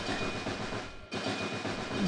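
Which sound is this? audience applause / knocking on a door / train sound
train sound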